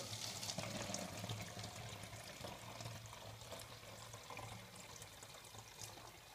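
Water pours steadily into a jug with a continuous splashing wash, close and moderately loud, with no talking.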